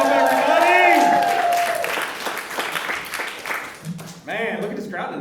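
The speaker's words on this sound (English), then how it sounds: "And thanks for clapping a lot more for Clem." A comedy show crowd applauds and cheers for the co-host, a broad wash of clapping that fades gradually while people speak over it.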